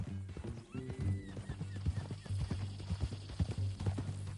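Horse hooves from the video game Red Dead Redemption 2 clip-clop in a steady walking rhythm, close and distinct, over a low background hum.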